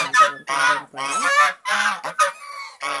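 Geese honk loudly and repeatedly in a series of harsh, nasal calls, several overlapping bursts close by with brief pauses between them.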